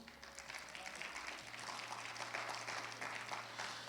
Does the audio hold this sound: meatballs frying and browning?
no